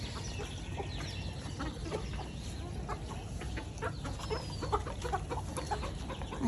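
Chickens cluck steadily on a small home farm, a dense overlapping chorus of short calls from several hens layered over a constant low background hum, with no one speaking.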